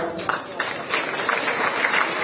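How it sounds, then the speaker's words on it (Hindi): A short burst of dense audience applause fills a hall at a ceremony where the Madhya Pradesh Chief Minister honours cricketer Kranti Goud. The clapping stays steady and moderately loud throughout. "एक बार जोरदार तालियां।"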